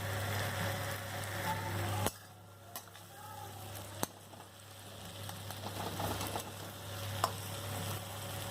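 Green chili frying and being stirred in a pan for masala fish curry, a steady soft sizzle with a few sharp spatula clicks against the pan.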